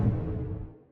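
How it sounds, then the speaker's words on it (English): Blink move sound effect from a multiplayer video game, a single one-second whooshing burst that starts loud and full and fades smoothly away, heard alone. "We also got some sounds for moves like the blink that sound like this."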